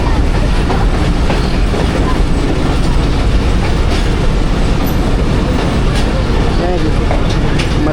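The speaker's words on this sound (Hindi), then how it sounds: "मलकवाल जंक्शन पहुंच गई ट्रेन हमारी।" The Millat Express rolls into Malakwal Junction with a constant loud rumble and rattle of wheels and carriages heard from on board, while people talk throughout.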